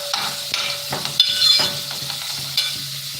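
Onion frying in a pan for a shrimp curry, a steady soft sizzle with scattered stirring scrapes and clicks, close and moderately loud, no talking.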